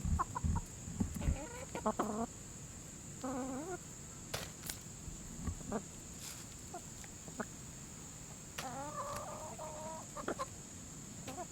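Hens clucking nearby in short, irregular bursts of warbling calls while given corn and green peas, with quieter stretches and a faint steady high whine in the background.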